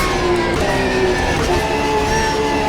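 Porsche 911 RSR engine in the Automobilista 2 racing sim, a loud, steady mechanical whine with a droning tone held throughout, close and alone.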